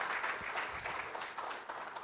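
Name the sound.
audience applause welcoming a panelist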